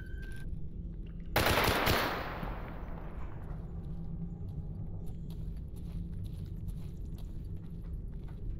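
Gunfire in the STALKER video game: a loud burst near the start, then a decaying rumble and continued background ambience.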